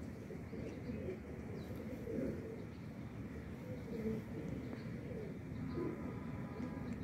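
Teddy pigeons coo softly and intermittently, with faint chirps over a steady low background hum; the sound is quiet and distant throughout.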